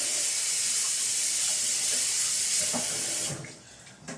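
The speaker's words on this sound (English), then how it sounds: "so I'm going to wash my hands" Steady, close tap water runs into a kitchen sink for hand washing, a continuous broadband rush that drops away near the end as the flow is shut off.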